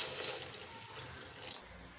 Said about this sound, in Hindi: अब फ्लेम ऑन करके 3 से 4 गिलास पानी के ऐड कर